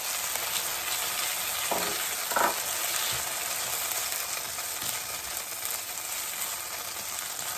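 Garlic paste frying with softened onion in a pan for coconut rice with chickpeas, a steady broadband sizzle throughout with a couple of brief stirring scrapes near the start, no voices.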